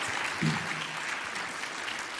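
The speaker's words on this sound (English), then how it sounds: "let's give them a round of applause" An audience applauds during an evening church service, a steady wash of clapping from many hands that carries on without a break, with a faint voice briefly audible underneath.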